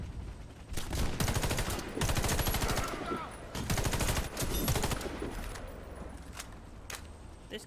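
Rapid bursts of gunfire from the player's weapon in the video game Warface, repeated volleys of sharp cracks in quick succession, loud and close, with brief pauses between bursts and some talk underneath.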